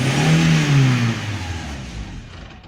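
A petrol Opel Astra engine, fault preventing it from starting, revs briefly with a falling drone, then dies away to a low fading rumble, heard close and alone.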